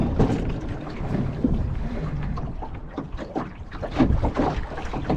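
Gusty wind buffets the microphone with low rumbling roars, over faint water and boat sounds on a sailing boat.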